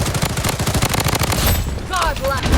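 Rapid automatic gunfire in the shooter game Blood Strike, a dense, loud burst of continuous shots with other game effects layered on top toward the end.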